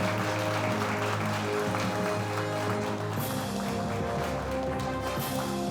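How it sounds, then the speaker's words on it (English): Award ceremony audience at the Jamaica Observer Food Awards 2021 applauding steadily and loudly, a dense continuous wash of clapping with sustained music tones underneath throughout. "Keep the applause going"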